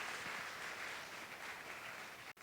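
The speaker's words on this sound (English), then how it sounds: "Can I have a round of applause, please?" A steady, even wash of applause from an audience at a university math fair carries on without a break, fairly soft and distant, then cuts off suddenly at the end.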